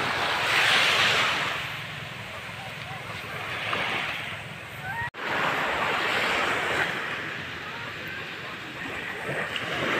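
Sea waves wash onto a seashore near a river mouth where fishermen haul nets, a steady broadband roar that swells and recedes, with wind buffeting the microphone and faint voices now and then.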